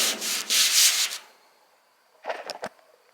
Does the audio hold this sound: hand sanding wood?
yes